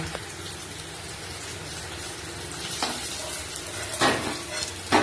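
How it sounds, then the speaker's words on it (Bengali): Paneer frying in a pan for a cauliflower, potato and paneer curry gives a steady close sizzle, with a few louder bursts near the end as the pieces are turned, and no talking. "এদিকে পনিরটা ভাজা হয়ে গেছে পনিরটা তুলে নেব"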